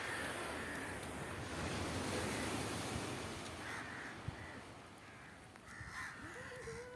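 Waves wash continuously on the beach at New Digha, with crows cawing repeatedly over the surf and some wind noise. Nobody speaks.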